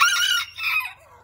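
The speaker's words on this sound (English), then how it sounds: "this is a hen, and this is a Mille de Fleur hen" A small Mille de Fleur bantam hen, a Belgian chicken breed, gives a loud, close clucking call that rises and fades over about a second, alone without talk.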